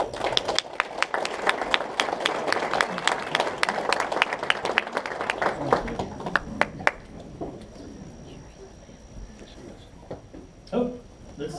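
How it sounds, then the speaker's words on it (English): A banquet audience applauds the 2015 Foothills District Committee officers and Commissioner staff. A burst of many hands clapping fills the first several seconds, then thins to scattered claps and fades to a quiet room with faint voices. "Give them a round of applause"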